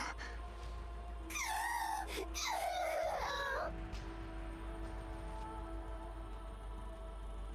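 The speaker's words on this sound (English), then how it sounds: "Uni begins to sob" Uni, a character in the NIKKE video game, sobs and wails in a few rising, quavering cries that break off midway, then fade into a quiet low hum.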